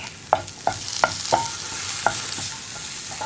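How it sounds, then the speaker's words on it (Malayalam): Tomatoes stirred into masala frying in a pan for mutta puttu, a soft sizzle under a run of sharp, regular spoon taps and scrapes against the pan, close and without talk. "ഇനി നമുക്കിതിലേക്ക് നമ്മൾ എടുത്തു വെച്ചിരിക്കുന്ന തക്കാളിയും കൂടി ചേർത്ത് കൊടുക്കാം."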